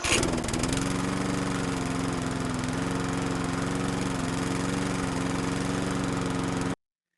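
A rough, buzzy, cheap-sounding small car engine idles steadily and loudly, its coarse knocking drone unchanging for several seconds before cutting off abruptly.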